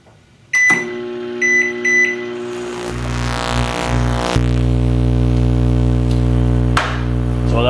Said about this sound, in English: Have a working microwave.